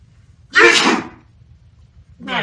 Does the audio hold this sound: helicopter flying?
no